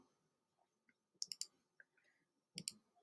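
Calculator keys pressed while an equation is entered, heard as a quick cluster of three or four crisp plastic clicks, then a pause and another tight pair of clicks, close and fairly quiet against a silent background.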